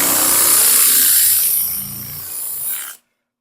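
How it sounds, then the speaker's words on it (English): Steady abrasive rasping of sanding Bondo body filler on a steel car panel, loud and close, continuing for about three seconds before stopping abruptly. "I'm still sanding and it's on Bondo"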